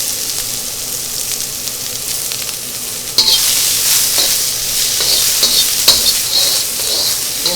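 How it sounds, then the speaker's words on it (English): Onion fries in sesame oil with a bright, steady sizzle that jumps louder partway through as the pieces are stirred, crackling close up with occasional scraping. "And we're gonna start with the onion. Onion and sesame oil."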